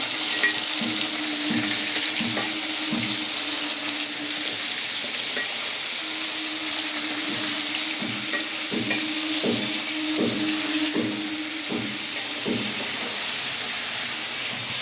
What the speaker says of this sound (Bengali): গরম তেলের মধ্যে আমি কুমড়ো আলু বেগুন ছেড়ে দিলাম